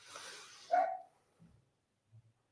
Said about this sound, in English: Apologies if you can hear my puppy.